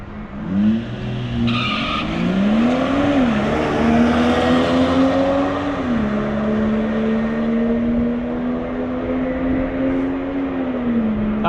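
Volvo S60 T6 P3 Stage 2 accelerating hard down a quarter-mile drag strip, a loud steady engine drone that climbs in pitch through each gear with a brief shift dip, heard alone without talk throughout.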